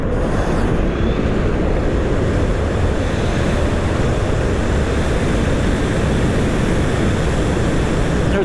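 Fardriver-controlled e-Maddog electric motorcycle with an ND961200 controller accelerating at full throttle in a roll-on: a loud, steady rushing roar of wind and drive noise fills all eight seconds without letup.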